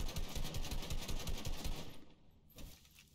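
Rapid bursts of Fortnite gunfire pound steadily for about two seconds, then break off into a quieter stretch with a single sharper report near the end.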